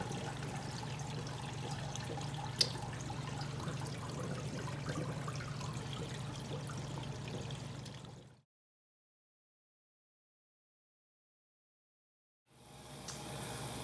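Water pours and trickles softly and continuously into a reef aquarium during a water change, cuts off into silence for a few seconds, then starts again.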